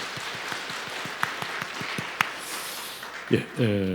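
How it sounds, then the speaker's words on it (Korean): A church congregation at Sunday service claps together in a quick, even rhythm with a few louder claps standing out, and a voice begins speaking in Korean as the clapping ends. "우리 성도님들은 환영과 격려로 박수해 주시기 바랍니다."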